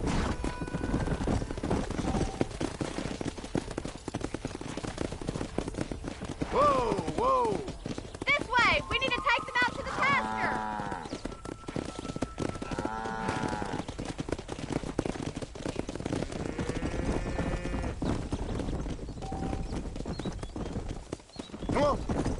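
Horse hooves clip-clop steadily along a road in the Western video game Red Dead Redemption, a rider guiding the horse as someone talks over it and a horse occasionally whinnies.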